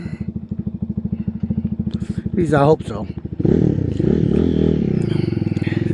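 A Chinese-made Kawasaki clone BD250-5 motorcycle ridden on a road, its engine idling with a steady throb, then revving up and pulling away into a loud, continuous ride drone; no speech is heard.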